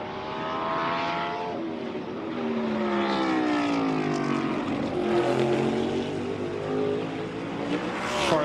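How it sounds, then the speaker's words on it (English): A NASCAR Cup Series stock car runs laps at Martinsville during practice and qualifying, its engine wailing loud with revs repeatedly climbing and dropping through the corners and straights, no talk over it. "We heard that baby ripping down the back straightaway."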